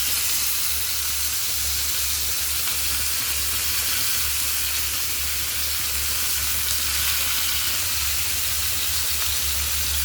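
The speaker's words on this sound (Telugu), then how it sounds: "రెండు వైపులా బాగా వేగుతుంది, క్రిస్పీగా అవుతుంది చేప" Fish frying in a pan until crisp, a continuous even hiss and sizzle with a low steady hum underneath, close and unbroken, no talking.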